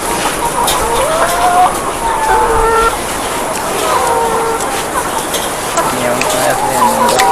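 Many layer hens on a poultry farm cluck and squawk at once in a noisy chorus, close and continuous, with people talking underneath.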